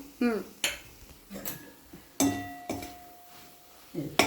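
Curry with coriander being stirred in a pan, heard as a few sharp metal spoon clinks and scrapes against the pan with quiet gaps between them, close by, with brief talk.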